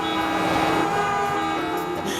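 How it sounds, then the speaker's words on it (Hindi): Several vehicle horns sound together in a loud, continuous blare of overlapping tones, with no pauses. "अरे देखो ना पतलू, गाड़ियों के कितने हॉर्न बज रहे हैं।"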